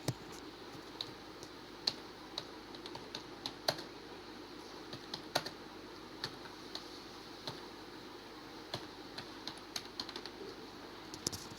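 Typing on a computer keyboard while entering a heading in a word processor, a faint irregular run of soft key clicks with a few sharper taps, with no talking.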